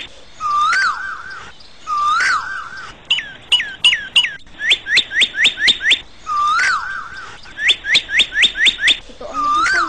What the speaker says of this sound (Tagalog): Habang naghihintay si Don Diego, narinig niya ang ibong Adarna maawit.